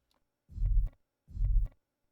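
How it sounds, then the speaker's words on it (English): Ambience tail of a compressed kick drum, turned up: two soft, low, boomy thumps about a second apart, each swelling and decaying over roughly a quarter second, with silence around them. "that is the ambience around the kick"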